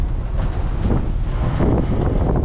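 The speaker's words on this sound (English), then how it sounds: "It's freaking windy today." Strong wind roars steadily into the microphone on a boat at an Erie Canal lock, a constant low rumbling buffet with gusts swelling near the end.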